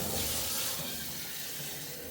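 Hot water runs from a kitchen sink tap in a steady, close, hissing rush that stays even throughout, with no voices.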